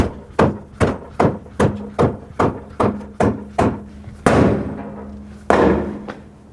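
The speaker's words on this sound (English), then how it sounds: "use a rubber mallet and tap it from the backside, but always hit the tire, not the rim" Rubber mallet striking the tire from the backside to free a stuck front wheel on a 2005-2009 Chevy Equinox, about a dozen sharp, evenly spaced thuds with two heavier ringing blows near the end, close and loud.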